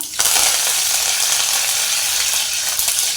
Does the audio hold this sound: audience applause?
no